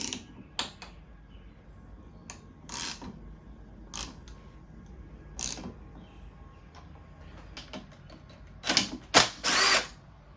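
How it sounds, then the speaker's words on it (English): An impact wrench works loose a tight bolt on a 1992 Honda CR250 engine. It fires in scattered short mechanical bursts, with a louder, longer rattling run near the end, set against a quiet workshop background. "I had to use the impact on this thing"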